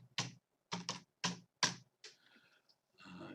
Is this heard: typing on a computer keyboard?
yes